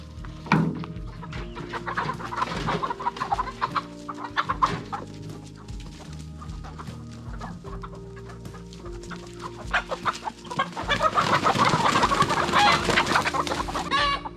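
Chickens in a coop behind a tiny house in the woods, loudly squawking, clucking and flapping in agitated bursts, with several birds calling over one another and the commotion swelling toward the end.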